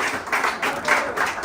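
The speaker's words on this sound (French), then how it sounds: "j'aimerais qu'on remercie et qu'on applaudisse l'équipe de BAI" Applause from an event audience thanking the BAI team, broad and steady with pulsing swells across the moment, no voices on top.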